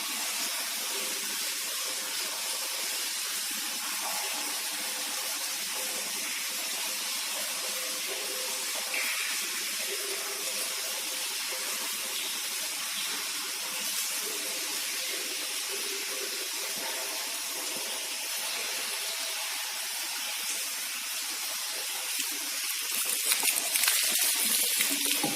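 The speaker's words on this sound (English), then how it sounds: "Now we can observe the priming of this centrifugal pump." Water rushes and hisses steadily while a centrifugal pump is primed, a continuous, fairly quiet flow that stays even throughout and grows slightly rougher near the end.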